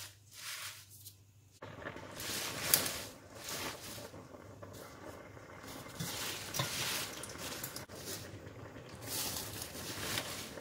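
Spinach goes into a pot of braised octopus on a stovetop burner, giving quiet sizzling and rustling stirring sounds, a soft patter of bursts that rise and fall over several seconds with no talking.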